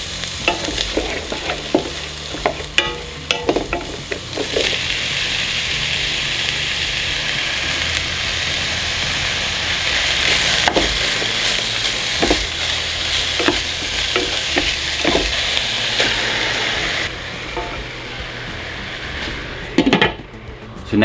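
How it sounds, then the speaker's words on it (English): Onion sautéing in a skillet, a steady sizzle broken by repeated scraping and clinking of a utensil against the pan, with brief speech now and then. "I'm going to start with sauteing up the onion"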